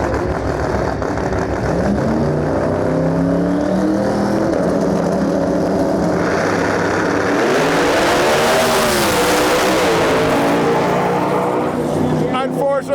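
Pro 275 drag racing cars, a twin-turbo car against a white fifth-generation Camaro with a Procharger, roar loudly down the strip, engines rising and sweeping in pitch, while a commentator talks over the run.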